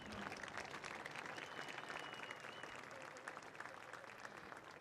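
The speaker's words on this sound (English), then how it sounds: "Let's give our recipients a round of applause and our participants a round of applause for being here tonight" Audience applause for award recipients and participants at an evening ceremony on a ballfield, a dense, steady wash of many hands clapping from start to finish, moderately distant.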